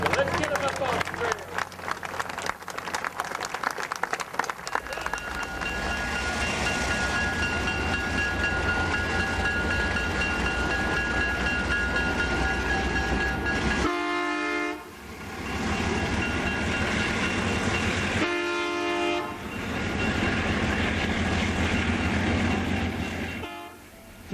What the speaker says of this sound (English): This is the Grand Canyon Railroad from Williams, Arizona to the Grand Canyon.